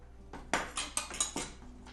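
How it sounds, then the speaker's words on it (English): Knife cutting a lemon on a board in a home kitchen, five or six quiet, close taps and scrapes in quick succession, with no talking. "let me go ahead and cut this lemon"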